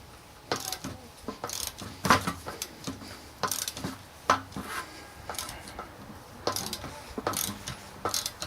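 Ratchet wrench clicking as it turns a 13mm deep well socket while removing the turbo on a 7.3 Power Stroke diesel, close and loud, in irregular bursts of quick ratcheting strokes with short pauses between.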